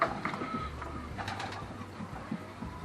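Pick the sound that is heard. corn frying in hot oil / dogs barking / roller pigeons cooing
roller pigeons cooing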